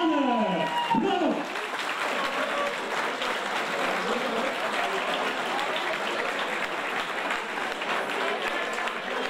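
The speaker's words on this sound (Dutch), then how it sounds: "En dames en heren, nogmaals is u welkom in dat applaus" Sustained applause from a crowd at the podium ceremony of a women's cycling race, the Grand Prix Sofie De Vuyst in Steenhuize, Belgium, forming a steady, dense wash of clapping throughout.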